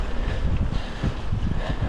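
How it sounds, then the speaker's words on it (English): Wind buffets the microphone with constant low rumbling gusts, loud and close, with no voices. "It's a bit windy as well, but hopefully you can hear me fine."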